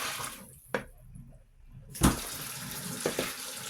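Tap water running into a sink while pork is rinsed, a soft flow broken by a brief splash, then a louder gush with a couple of sharp splashy knocks near the end.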